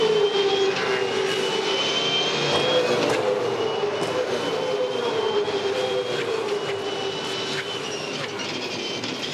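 V8 Supercars racing at the Gold Coast 600, with the Red Bull Racing Australia car number 1 driving loosely; a steady, loud engine drone with a sustained whining tone carrying through the whole stretch.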